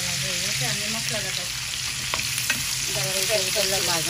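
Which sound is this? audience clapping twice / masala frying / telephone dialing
masala frying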